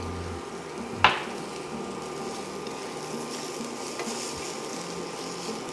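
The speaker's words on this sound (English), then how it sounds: "I'm gonna add in the dry garlic and dried onion. I'm gonna get a little bit of more sesame oil if the pan looks a little bit dry." Dried garlic and dried onion frying in sesame oil in a pan, giving a steady, soft sizzling hiss with one sharp utensil clack near the start.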